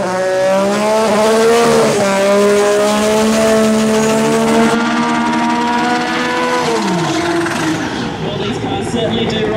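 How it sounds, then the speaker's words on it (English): Factory Xtreme drag race cars roar at Winter Nationals qualifying, loud engine howls with rising and falling pitch and a tire squeal, a continuous close blast of motor noise. "Check out this early qualifying action for Factory Xtreme here at the Winter Nationals."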